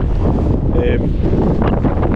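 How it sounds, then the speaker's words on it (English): Strong wind buffeting on the hilltop of Kinder Scout above Kinder Reservoir, loud gusty roar battering close up, with a brief tonal whistle and a voice talking under the gusts. "And wow, it's windy."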